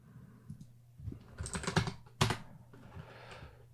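Fingers type on a computer keyboard in short irregular bursts of clicks, some keystrokes sharper and louder than others, close up with no voices.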